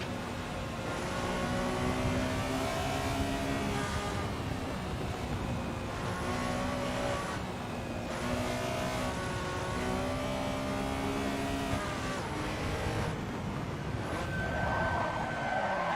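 Porsche Cup race car in Assetto Corsa on the Nürburgring Nordschleife, its engine droning steadily and loud with rising and falling rev sweeps through gear changes, continuous throughout.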